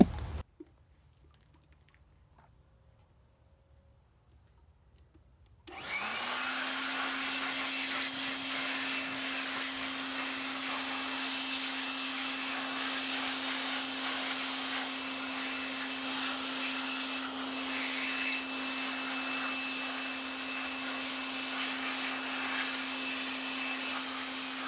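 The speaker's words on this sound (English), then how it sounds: "small electric blower that I got off Amazon" A small electric blower clears dirt off a Traxxas Slash 4x4 RC truck, switching on after a few quiet seconds and then holding a steady, loud whine and rush of air with no talk.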